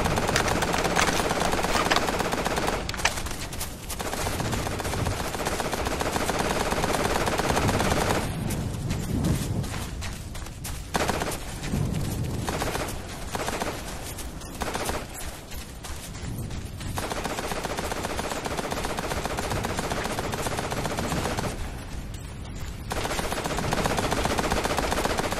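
Enemy gunfire in Operation Flashpoint: Dragon Rising: long, dense bursts of automatic rifle and machine-gun fire crackle close and loud with only short gaps, over the steady drone of a transport helicopter.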